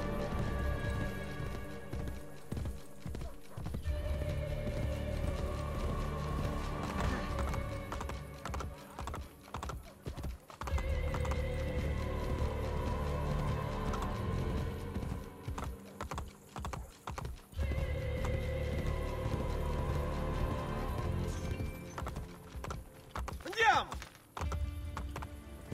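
Horse hooves gallop in a steady, rapid clip-clop rhythm in the video game Assassin's Creed Brotherhood, continuing for the whole stretch under game music and occasional voices.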